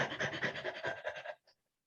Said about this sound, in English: you do the fast breathing like a rabbit